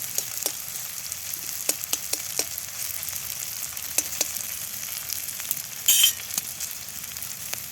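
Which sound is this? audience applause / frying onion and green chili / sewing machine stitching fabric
frying onion and green chili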